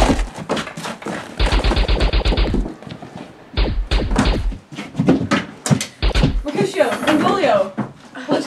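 Staged gunfire effects in a theater production of Romeo and Juliet, with bursts of rapid automatic-style shots and thuds mixed under loud, urgent actor dialogue.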